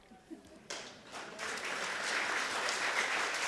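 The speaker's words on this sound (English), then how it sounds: "Wait till they're done clapping." A room audience breaks into applause at the end of a children's story reading, starting faint and swelling into steady, sustained clapping that fills the space.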